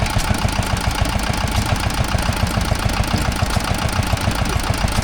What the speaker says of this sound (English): that's a PAZ diesel